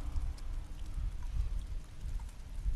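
Acid rain in Remnant From the Ashes pours down as a continuous, dense hiss with a low rumbling undertone and no voices.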